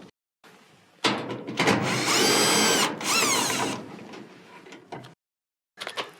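Power drill backing out screws from the front panel of a Whirlpool dryer, a close loud whirring burst with a pitch change, a short pause, then more whirring and brief later spurts.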